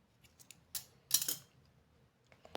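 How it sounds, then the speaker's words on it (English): Scissors snip through yarn while finishing a crocheted bralette top, making a few quiet, sharp cuts, with the strongest pair of snips near the middle and near silence between them. "and then we cut off our yarn"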